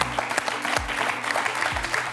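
TV quiz show studio audience applauding a departing double champion, a dense burst of clapping heard close and loud over a few seconds, with a couple of low thuds underneath.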